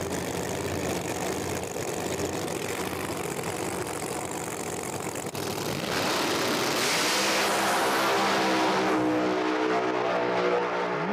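No-prep street-style drag race cars roar, first as a steady distant rumble with crowd noise, then swelling into loud, rising high-revving engine howls as they charge down the strip.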